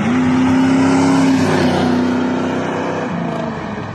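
A subscriber's car engine with an old GM character revs loudly and close, holding a steady drone before easing off and fading slightly, with no talking.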